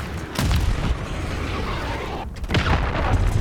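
A cruise missile explosion in Modern Warfare 3, heard as deep booming blasts rumbling loudly through the game's battle noise, with a second heavy impact arriving a couple of seconds after the first.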